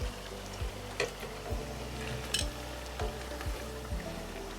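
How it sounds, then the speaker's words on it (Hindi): Noodle pakoras coated in besan batter frying in hot oil, a close, steady bubbling sizzle with small pops and faint stirring, no talking. "ये देखें फ़ौरन से फ्राई भी हो गए हैं, बिल्कुल रेडी होते हैं ये।"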